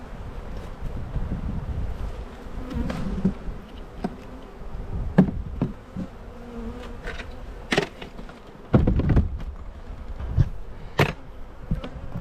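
Honey bees drone around an open backyard beehive during a late March inspection, a continuous buzzing with occasional close passes, wind buffeting the microphone and a few soft handling clicks, no voices.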